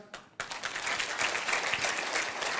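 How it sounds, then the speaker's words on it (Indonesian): An audience at a seminar breaks into steady applause after a brief pause, dense, even clapping from many hands that holds throughout at moderate loudness. "Tepuk tangan lagi"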